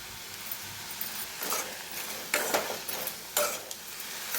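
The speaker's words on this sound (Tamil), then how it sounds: "வெங்காயம் தக்காளி நல்லா வெந்து வரட்டும்." Onions and tomatoes sauté in a pan for a Tamil kadamba chutney, giving a steady faint sizzle with several louder stirring scrapes of a spoon against the pan.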